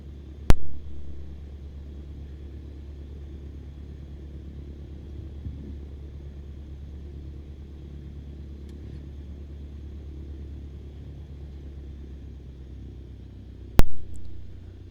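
A small aircraft taxis at Carlisle in Microsoft Flight Simulator 2020, giving a steady low engine rumble throughout with two brief sharp clicks at the start and end.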